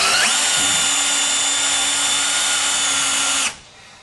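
A power drill whines loudly and steadily up close while driving screws, running for a few seconds before it abruptly stops, with no talking.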